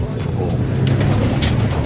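Low, throaty cooing from a pigeon close by, a soft continuous murmur lasting a couple of seconds with faint background noise.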